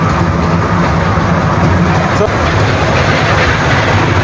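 A small amusement park ride train runs at a resort, giving a loud, continuous rumble and clatter heard close from on board.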